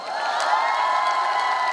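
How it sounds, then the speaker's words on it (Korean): A festival crowd at the Okcheon Grape and Peach Festival cheers, whoops and applauds for a new trot singer's first stage, a loud, dense, continuous roar of voices and clapping close at hand. "박수 한번 주세요."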